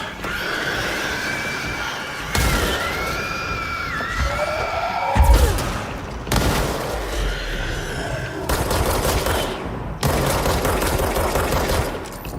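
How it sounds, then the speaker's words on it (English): Enemies exploding amid gunfire in the video game Control: bursts of rapid shots and blasts punctuated by sweeping synthetic tones, loud and continuous in stretches separated by abrupt cuts. "If they get close, yeah, they explode."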